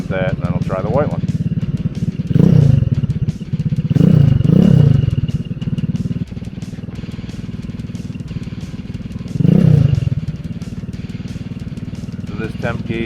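A GY6 scooter engine at full throttle during a test lap, fitted with an aftermarket cooling fan. It drones steadily and close, with several louder revving surges, and a voice speaks over it at times.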